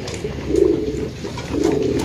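Pigeon cooing close by, two low, throaty coos about a second apart, loud and clear over faint background noise.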